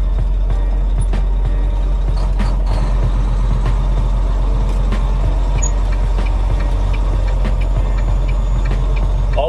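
Semi truck engine running steadily while the rig backs up, a loud, constant diesel drone with faint clicks and rattles, close and with no talk.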